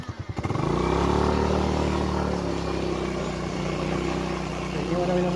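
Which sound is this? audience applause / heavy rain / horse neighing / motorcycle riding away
motorcycle riding away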